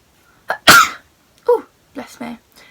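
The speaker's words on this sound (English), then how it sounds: "And I'm going to sneeze." A person sneezes once loudly and close, with a short intake before the burst, followed by a few quiet spoken words.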